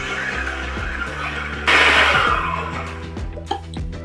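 A stand mixer with a paddle attachment beats pumpkin, a close motor whir and rumble that jumps louder midway as the speed rises, with knocks and scraping against the bowl.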